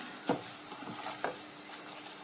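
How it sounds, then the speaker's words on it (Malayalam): Quiet, steady sizzle of roasted gram frying in oil for Kerala spicy mixture, with a few soft stirring scrapes and clinks over a faint high hiss. "ഇനി നമ്മൾ പൊട്ടുകടല വറുത്ത് കോരണം, കടല വറുത്ത് കോരണം"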